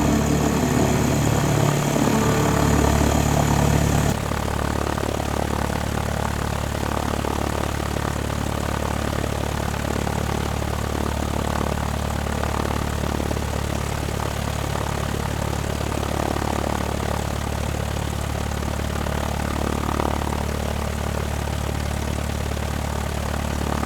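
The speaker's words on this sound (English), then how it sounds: "They're a twin-engine Otter that they use." A twin-engine Otter propeller plane's engines drone steadily and loudly throughout as it lands on a beach, a constant mechanical hum with a slight shift in tone early on as the aircraft comes in.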